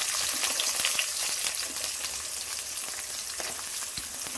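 Sliced onions and green chillies frying in a pan for a greens palya, a dense steady sizzle with occasional light crackles, close and continuous without speech.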